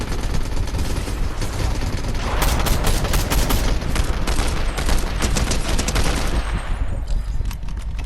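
Rapid automatic gunfire in the Fortnite video game, loud sustained bursts of shots packed closely together across the whole stretch, with little else audible.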